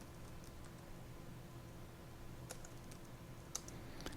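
Faint, quiet keystrokes tap sparsely on a computer keyboard as names are typed, a few soft clicks over a low steady room hiss.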